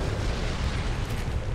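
A grenade goes off in Tom Clancy's Ghost Recon as a loud, dense rumbling blast that fills the whole short stretch with broadband roar, close and heavy.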